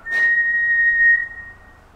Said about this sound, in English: Maybe if we whistle, can you whistle back?